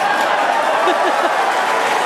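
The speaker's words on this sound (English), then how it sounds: "The crowd very excited to see that view" A large crowd cheers and applauds at a Starship fourth flight launch broadcast, a steady, loud wash of noise lasting throughout, with a voice talking faintly underneath.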